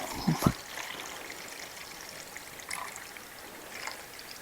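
Coolant trickles in a thin, steady stream from a hose hole on a Polaris Sportsman ATV, faint and close, after a couple of brief knocks at the start.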